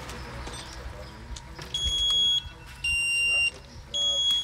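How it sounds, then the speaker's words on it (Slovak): A Knok Scout anti-theft alarm fitted to a bicycle gives three loud, steady electronic beeps, each about half a second long and separated by short gaps, over outdoor background noise. "pípa bicykel, pípa zariadenie"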